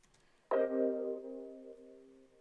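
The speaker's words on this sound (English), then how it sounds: "I also added this synth hit thingy" An analog-style synth hit preset plays as a single sharp stab that rings out with a sustained harmonic tail, decaying slowly over two seconds, alone and fairly quiet.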